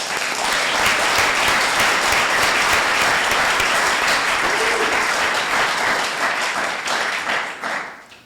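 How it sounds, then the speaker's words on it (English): Sustained audience applause at a candidate forum for the 2nd Franklin state representative seat in Templeton, a dense, steady roar of many hands that holds for several seconds before tapering off at the end. "I think we owe them all a round of applause"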